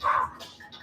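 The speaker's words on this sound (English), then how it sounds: "you might hear a little dog barking." A small dog gives one short, sharp bark right at the start, quiet and somewhat distant, during an indoor Pilates workout.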